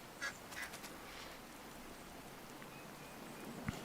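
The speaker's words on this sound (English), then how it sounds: "there's the ducks" Ducks quack a few times, faint and brief, in the survival card game Card Survival Fantasy Forest, over a soft rain-like ambient hiss, with a small thump near the end.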